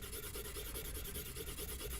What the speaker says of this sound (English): I'm using the side of the pencil and I'm pressing on quite hard so as I can get a good amount of colour down